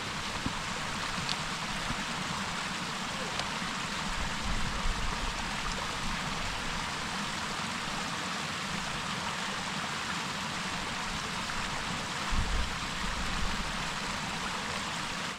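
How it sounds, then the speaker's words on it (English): Water bubbling and trickling over stones near the start of a small stream, a steady close-up babble that continues without pause. "this is the start of the stream"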